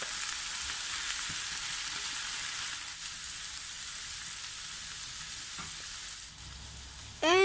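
Boiled pork frying in a pan for adobo: a steady loud sizzle holds throughout, with faint stirring knocks and a brief sharp scrape at the end.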